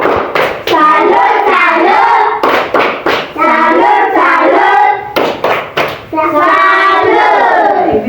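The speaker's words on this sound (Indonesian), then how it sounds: "Untuk teman-teman, kita tepuk tangan dulu untuk Elvin." A classroom full of people clapping together, loud and close, in bursts with brief pauses between them.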